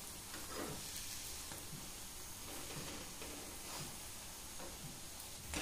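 Methi paratha (dhapate) roasting on a hot pan gives a steady, soft sizzle with faint crackles throughout, fairly close and continuous, with no talking.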